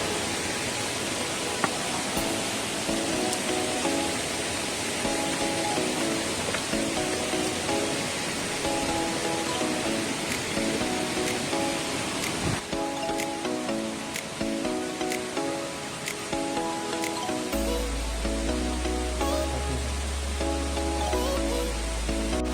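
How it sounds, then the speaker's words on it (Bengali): Khoiyachora waterfall in Sitakunda gives a continuous broad rush of falling water heard up close. The roar stays steady throughout with no voices. "আমরা আছি এখন খৈয়াছড়া ঝর্ণার সবচেয়ে বিপজ্জনক এলাকায়।"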